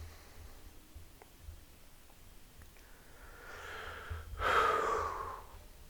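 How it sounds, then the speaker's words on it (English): A person breathes heavily near the microphone during a Digimon card game match: quiet, faint breaths, then a loud, drawn-out exhale that swells and fades. "Sorry, breathing heavily."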